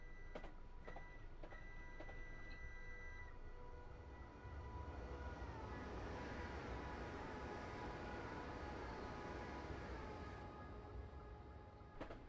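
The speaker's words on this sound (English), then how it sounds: "The train sounds cool when it goes by, though." A train rushes past in Train Simulator 2018 on the Brighton Main Line, a steady loud broadband roar with rumbling lows throughout and a few high tonal whines early on, sustained for the whole stretch.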